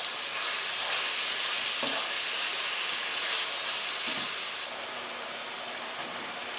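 Minced meat browning in a pan over medium heat for lasagne, a steady close sizzle and hiss with occasional soft scrapes and knocks of a wooden spoon breaking it up and stirring.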